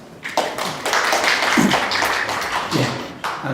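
Audience clapping in a Korean conference hall welcoming a speaker, a short round of moderately loud, uneven hand claps.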